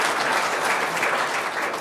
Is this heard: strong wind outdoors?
no